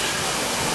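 Strufoli dough balls deep-frying in hot oil give a dense, steady sizzle and crackle, loud and close, in a brief continuous burst.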